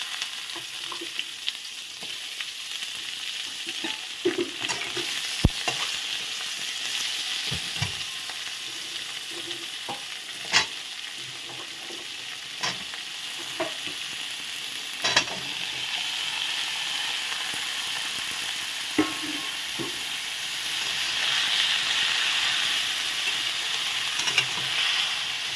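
A pan of dried fish with vegetables being added and stirred for a Bengali dried-fish curry gives a steady close sizzle, broken by occasional sharp scrapes and knocks of the stirring spoon, with no talking.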